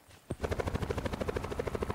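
A video game helicopter starting up and then thumping steadily, its rotor beating in a fast, even rhythm of loud low pulses close by for the rest of the clip.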